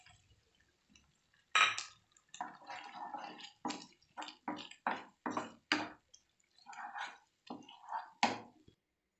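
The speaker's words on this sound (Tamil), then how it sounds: "இதில் நான் கரைச்சி வச்ச கார்ன்ஃப்ளவர் தண்ணியும் ஆட் பண்ணிடுறேன்." Cornflour slurry poured and stirred into a pan while cooking Tamil-style chilli chicken, a run of short wet squishing and dripping bursts at close range, clustered in quick irregular pulses with brief pauses between them.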